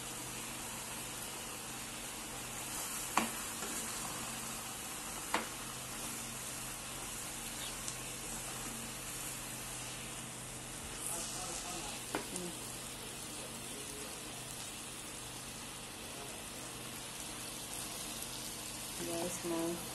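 Bitter leaf going into a pot of okra soup, a steady low simmering sizzle with occasional clinks and knocks throughout.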